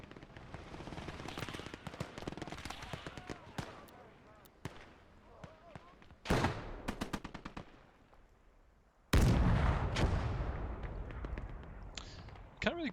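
Lafette MG42 machine gun fire and other gunfire in the Gates of Hell WWII strategy game: rapid rattling bursts and sharp loud cracks, some near and some distant, over a running battle soundscape.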